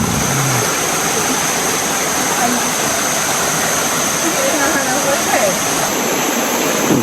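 A rocky mountain stream flows steadily over stones, a loud, dense, continuous rush of water close by with no breaks.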